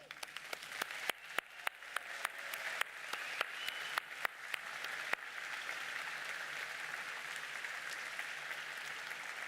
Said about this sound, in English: please join me in giving the STEAM Up team a round of applause